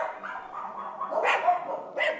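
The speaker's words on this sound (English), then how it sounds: "These boxes are filled with dogs." Dogs crammed into illegal breeding boxes, some pregnant or with newborn puppies, let out barks and yips at close range in an enclosed space, with several sharper bursts near the end.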